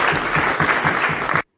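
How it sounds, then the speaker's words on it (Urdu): Brief audience clapping for Dr. Noor Amrohvi at a celebration in a historic London building, dense rhythmic hand claps close by, then cutting off abruptly into silence. "ان کے لیے تالیاں بجائیں"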